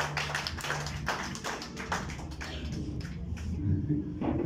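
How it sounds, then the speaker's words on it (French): A congregation at a Sunday church service applauds, a continuous wash of many hands clapping with a low hum of voices beneath, steady and fairly full throughout. "Et applaudis pour tout ton monde."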